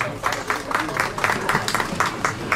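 An audience claps steadily at an award ceremony for a sobriety run in Tomaszów, with a clear rhythmic pulse of many hands and voices murmuring in the crowd.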